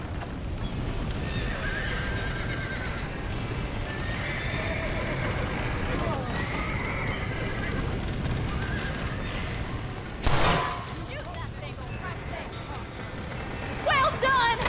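Horses whinny and hooves clatter at a gallop in Red Dead Redemption, with a voice talking over the action and a sharp burst near the end.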